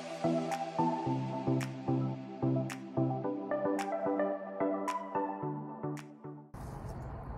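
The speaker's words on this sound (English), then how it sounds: "and then I'm gonna mix it up with a toothpick." Colored paint being stirred into shaving cream with a toothpick for bubble paint art, heard as a steady series of soft, wet, squishy taps and drips, close and alone, ending in a brief rustle.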